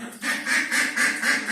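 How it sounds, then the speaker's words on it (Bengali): Ducks on a family livestock farm quack loudly and close, about five rapid nasal calls in a steady rhythm, with no voices. "এই বতকের খামারের ভিতরে এইটা রাজহাঁস আছে"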